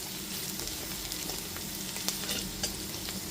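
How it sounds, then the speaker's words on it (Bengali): Chopped onion fries in hot oil for a spicy pomfret curry: a steady, close hiss of sizzling with faint clinks and scrapes from stirring, no voices. "পেঁয়াজ কুচিটা দিয়ে দেওয়ার পর হালকা বাদামি করে পেঁয়াজটাকে ভেজে নেব।"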